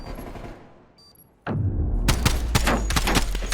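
Rapid gunfire from a weapon in Call of Duty: Black Ops Cold War during a competitive match, starting abruptly after a quiet lull and continuing as dense, loud bursts with no talk.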